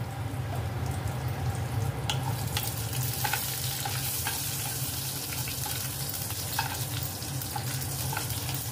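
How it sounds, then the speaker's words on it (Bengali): Nigella seeds and green chillies sizzle in hot oil in a wok preheated on a gas flame, a steady close crackle broken by sharp scrapes and taps of stirring, with no voices. "এবার এতে ফোড়ন দেওয়া হচ্ছে কালো জিরে আর কাঁচা লঙ্কা"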